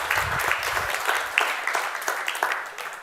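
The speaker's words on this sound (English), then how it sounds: "round of applause" An audience at a science evening gives a round of applause: a brisk, even patter of many hands that holds steady for a few seconds, then thins slightly toward the end.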